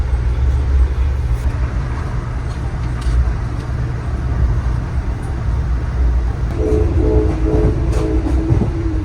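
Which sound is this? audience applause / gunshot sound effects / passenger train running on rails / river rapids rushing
passenger train running on rails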